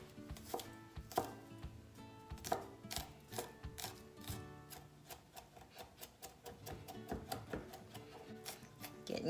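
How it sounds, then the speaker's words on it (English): Rapid knife chopping of garlic on a cutting board, sharp irregular taps in quick bursts, close and clear with no talking. "Getting kind of crazy with the chopping of the garlic"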